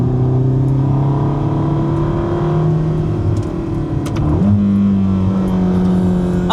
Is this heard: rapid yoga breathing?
no